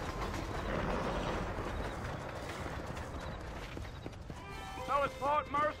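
Horse hooves clip-clop in the Red Dead Redemption video game under a steady rumble of riding noise, followed near the end by a few short, high horse calls, with people talking over it.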